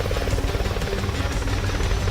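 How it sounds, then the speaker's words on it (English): Helicopter in the video game Warzone: a dense, steady rotor thrum with rapid blade chopping, loud and close throughout, no voices. "That helicopter too big."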